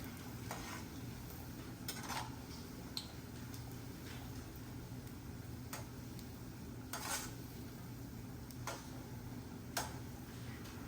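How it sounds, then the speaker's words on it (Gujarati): Quiet, steady sizzling of pakoras deep-frying in oil, with occasional soft clicks and taps of utensils against a pan. "તમે જોઈ શકો છો આપણા પકોડા મસ્ત તળાય છે."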